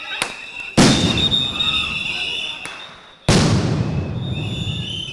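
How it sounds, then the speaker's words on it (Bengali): Sound grenades exploding during a police clash with students on a university campus: two loud, sharp blasts a few seconds apart, each ringing out into a long decaying echo, with smaller pops around them. "বেশ কয়েকটি সাউন্ড গ্রেনেড বিস্ফোরণেরও শব্দ শোনা যায়।"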